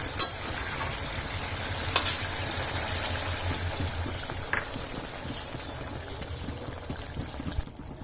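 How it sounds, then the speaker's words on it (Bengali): Cumin, dried red chillies and bay leaves fry in a pan of hot oil for a vegetarian potato and aubergine dish, giving a steady close sizzle with a few light stirring clicks throughout. "জিরা শুকনো লঙ্কা তেজপাতা ভাজা"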